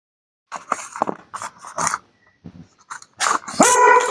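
A pet dog growls and grumbles in short close bursts, breaking off and rising into a louder snarl at the end, with no talking.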